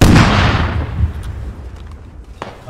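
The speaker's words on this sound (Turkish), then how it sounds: "Aa patladı." A loud, close explosion in a multiplayer video game, a sharp booming burst that fades over a couple of seconds with a smaller pop near the end.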